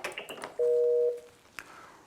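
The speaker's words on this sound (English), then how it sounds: "You'll hear their phone ring off shot, and then we are talking to that person." An internal office desk phone rings off shot, a single clean electronic tone lasting about half a second, moderately loud, after a few brief button-like clicks and followed by a faint click and quiet room.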